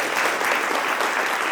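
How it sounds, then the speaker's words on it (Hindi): Crowd at a school debate winner announcement claps for a winner coming on stage, a brief, steady burst of dense applause at even loudness. "प्रशांत पाल के लिए जोरदार ताली बजाएं भाई।"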